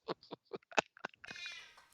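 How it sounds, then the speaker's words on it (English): A series of short sharp clicks or knocks gives way to a drawn-out, wavering cat meow in the second half, fairly close and clear against a quiet background. "That was a cat."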